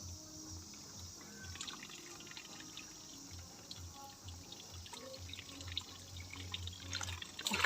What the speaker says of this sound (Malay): kita siram di bahagian tepi macam ni